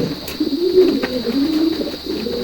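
Janssen-bloodline racing pigeon cooing close by, a soft rolling low coo repeated over a couple of seconds against a steady background hiss.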